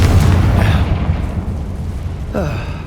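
A Confringo blasting spell bursts in Hogwarts Legacy, a loud low rumbling explosion up front that decays over a couple of seconds, followed by a brief voice.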